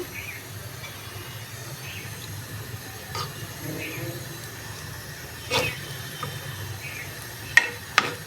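Tilapia fish frying in hot oil gives a low, steady sizzle and hiss, broken by occasional sharp clinks of a utensil, the loudest near the end.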